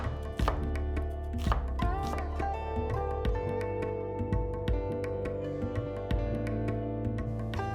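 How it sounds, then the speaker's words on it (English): A knife slicing onions on a cutting board for a bitter gourd salad: rapid, regular close chopping taps repeating steadily throughout, crisp and loud with no talking. "Then slice up the onions."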